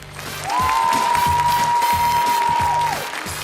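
Studio audience applause and cheering on a Ukrainian TV game show, loud and sustained for about three seconds, with a steady electronic tone running over it and some background voices.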